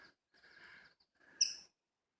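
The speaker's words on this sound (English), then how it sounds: "Not sure what that bird is. It's an unfamiliar call." A bird gives a short, unfamiliar call outdoors near a garden: faint chirping notes, then one brighter, louder chirp burst that fades quickly, with quiet between the calls.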